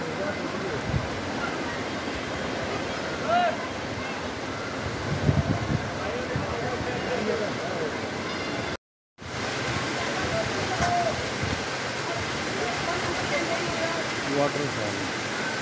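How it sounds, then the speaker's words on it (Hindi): Sahastradhara waterfall in Dehradun, India, pours steadily as a dense, broadband rush of falling water that fills the whole stretch, with a brief dropout midway and faint voices in the background. "Waterfall"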